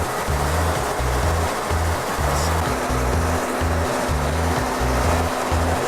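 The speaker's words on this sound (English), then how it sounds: "the particle counter will be flushing the fluid until the moisture sensor has been calibrated" STAUFF particle counter flushing hydraulic fluid: a steady, loud rushing flow with a pulsing low mechanical throb repeating about twice per second, a faint hum joining partway through.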